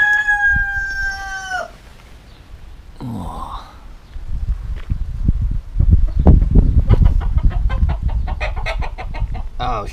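A rooster crows loudly at the start, and more chickens cluck and call through the rest, close by on a farm stay in Portugal, with outdoor rustling and movement underneath.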